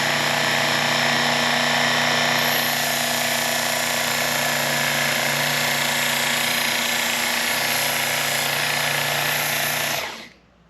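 A Work Sharp electric knife sharpener grinds a dull, broken-tipped paring knife with a steady, loud motor whine that runs continuously and close up, then cuts off abruptly near the end.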